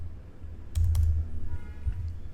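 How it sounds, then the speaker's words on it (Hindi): Keys clatter on an Acer Nitro V gaming laptop with an Intel Core i5 and RTX 4050, a brief burst of close, quick clicks over a low steady hum, with no voices. "कीबोर्ड भी बहुत स्मूथली चल रहा है इसका।"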